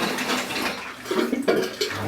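Mains supply water rushes in through an opened valve into a backyard rainwater cistern, a continuous splashing flow with a few gurgling bursts, close and fairly loud.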